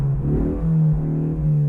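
A 2024 Ford Mustang four-cylinder in track mode with its quad-tip exhaust valves open revs steadily and loudly against a limiter, holding a droning, buzzy note with slight rises and dips throughout.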